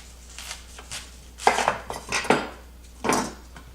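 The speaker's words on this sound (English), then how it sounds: "Recommend just kind of cutting it in half." Knife slicing through a head of cabbage on a cutting board, several crisp crunching cuts with sharp thuds, close and clear, separated by short pauses.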